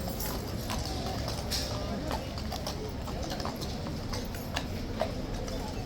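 Horse hooves clip-clop steadily on pavement at Horse Guards in London, where mounted troopers stand among crowds of tourists, under continuous crowd chatter and street noise.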